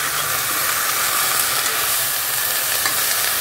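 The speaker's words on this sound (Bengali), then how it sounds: "তো এবার এটাকে একটু লাইট সতে করব, সব কিছুকে একসঙ্গে" Mixed vegetables lightly sautéed together in a pan, with a continuous close sizzle and hiss of frying that stays steady throughout.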